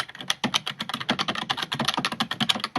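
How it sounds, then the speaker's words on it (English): Keys on a cramped laptop keyboard with a custom QWERTY layout clack in quick, uneven bursts of sharp taps, close and fairly quiet, heard alone. "this is what the keyboard sounds like"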